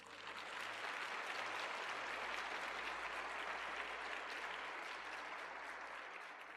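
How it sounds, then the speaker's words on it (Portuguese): A church congregation applauds during a sermon, a dense, even roar of clapping that sounds distant and fairly quiet, with a low hum underneath. "Eu acho que ele merece um aplauso."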